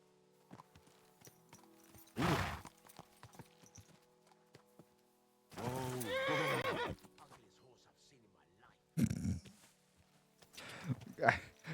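Horse in the video game Kingdom Come: Deliverance II, giving several loud whinnies with soft hoof clops between them, close by and fairly clear.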